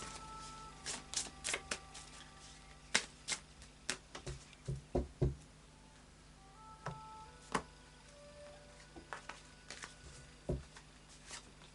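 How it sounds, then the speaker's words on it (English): Tarot cards are shuffled in soft, irregular riffles and taps, quiet and close, with no voices. "And then a final shuffle of the Anna K Tarot."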